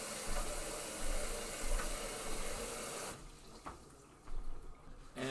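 Tap water runs steadily into a kitchen sink while dishes are washed, a broad continuous rush that cuts out abruptly partway through, leaving a quieter splashing trickle with a few louder bursts near the end.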